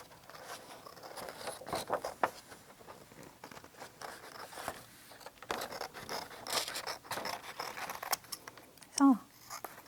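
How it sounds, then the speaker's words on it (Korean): Scissors snipping through paper a child has drawn on in an art class, a steady run of close crisp cuts and rustles with light background noise. "가위로 아이들에게 직접 자르라고 하시거나 아니면 부모님께서 이렇게 도와주셔서 이렇게 잘라주세요"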